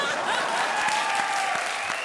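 Studio audience at a comedy show giving loud, sustained applause, a dense even roar of clapping with a few sharper claps, while a faint voice or music tone carries beneath it.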